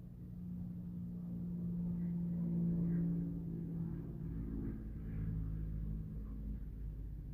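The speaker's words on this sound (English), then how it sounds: "I can really hear the traffic now from the freeway." Distant freeway traffic makes a steady low rumble and hum, faint and continuous throughout, with a deeper swell of passing vehicles in the second half.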